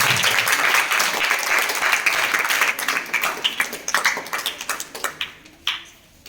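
A loud burst of applause opens a session on geometry, dense and steady at first, then thinning into scattered individual claps that fade out.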